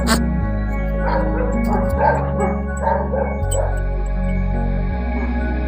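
A dog on a farm where cattle are being washed gives several yipping barks and whimpers, fairly close, over a steady low mechanical drone with some background voices.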